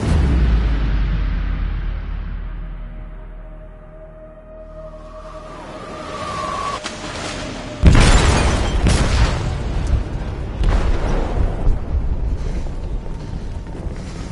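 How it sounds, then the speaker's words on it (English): An explosive goes off in a ship's hold in the game Detroit: Become Human. A deep, rumbling boom follows a low, droning lead-in, then heavy crashing and churning noise carry on loudly for several seconds. "They detonated an explosive in the hold."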